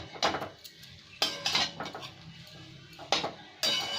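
A metal utensil stirs chowmein noodles with scrambled egg in a pan. Sharp scraping and clanking strokes come in irregular bursts, with quiet gaps between them.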